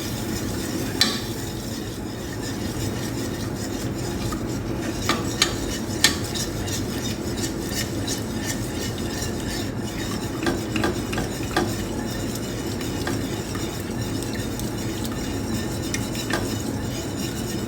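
Bechamel sauce with cooking cream is stirred in a pan, a steady low bubbling and soft sizzle under repeated spoon scrapes and clinks against the metal, fairly close and with no talking.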